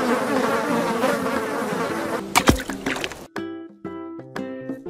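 A yellow bee buzzes in a steady, close drone for about three seconds, then the buzzing stops and clear musical tones take over.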